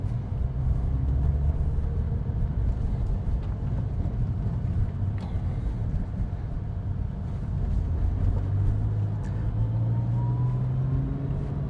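Porsche 996 fitted with a Hartech 4.1L engine and ported heads cruising in sixth gear, steady low engine drone and road rumble throughout, with gentle pitch rises as it gains speed.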